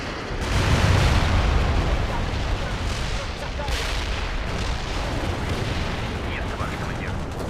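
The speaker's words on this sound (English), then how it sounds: "Launching a barrage. Artillery strike on the way." Artillery barrage in World in Conflict rumbles as a dense, continuous roar of distant explosions and booms, loud and sustained with sharper bursts near the start.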